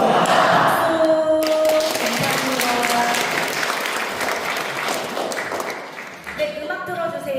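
Audience applause fills a Won Buddhist temple hall during a Sunday service, a dense, steady clapping with voices calling out over it; the clapping thins briefly near the end before picking up again.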